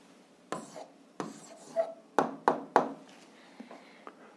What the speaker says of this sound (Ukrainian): записуємо відповідь, пишемо відповідь